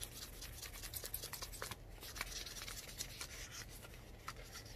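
Automotive sandpaper rubbing by hand across a Jeep Gladiator surface, a steady close scratchy back-and-forth scrubbing with short strokes, carrying on without pause for the whole stretch and no talking.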